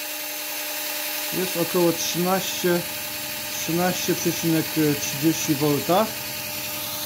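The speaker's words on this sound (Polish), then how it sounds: "Dobrze, teraz podłączymy naszą wkrętarkę. Ona ma małe, bardzo małe obroty." A cordless drill at low speed spins a washing machine motor used as a generator, making a steady low mechanical hum that runs throughout while someone talks over it.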